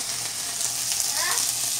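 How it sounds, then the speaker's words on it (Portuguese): Chicken pieces fry in a pan with garlic and salt, a steady close hissing sizzle with no talking. "tô aqui, então, fritando o franguinho só com alho e sal"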